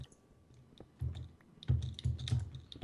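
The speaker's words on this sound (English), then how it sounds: "sounds like you're beating to death your keyboard." Heavy, forceful typing on a computer keyboard during a Minecraft session, with clusters of loud clacking keystrokes in irregular bursts that grow stronger toward the end, close and clear with no talk.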